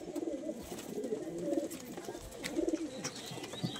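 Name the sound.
Madrasi pigeons cooing in loft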